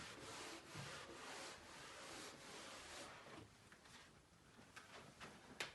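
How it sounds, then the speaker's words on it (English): A classroom board is rubbed clean with steady, scratchy back-and-forth strokes, faint and continuous for several seconds with a few sharper scrapes near the end. "So just let me rub the board there"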